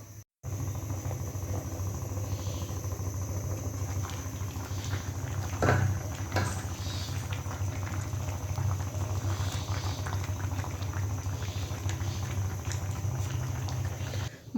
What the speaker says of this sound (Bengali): টমেটো সিম আলু সব একসাথে সিদ্ধ করে নিব চলেন এগুলো সিদ্ধ হোক